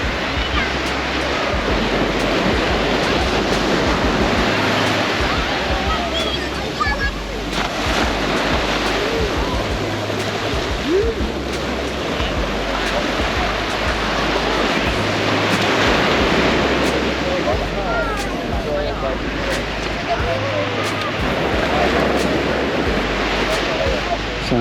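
Ocean waves break at Nai Harn Beach in Thailand around sunset, a continuous loud wash of surf with rhythmic swells and steady wind rush throughout.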